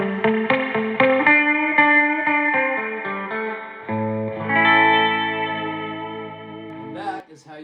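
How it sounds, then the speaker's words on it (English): An electric guitar plays a surf guitar run of clean, twangy notes drenched in splashy spring reverb, ending with a sustained ringing chord and a short rattle. "Once we add the spring reverb,"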